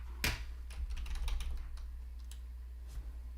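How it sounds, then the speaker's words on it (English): Quick, light clicks of typing on a computer keyboard come in an irregular rhythm, close and fairly soft over a steady low hum, with no talking. "I'm just going to type it in."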